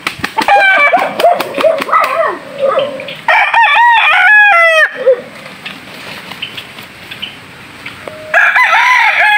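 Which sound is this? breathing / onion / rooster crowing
rooster crowing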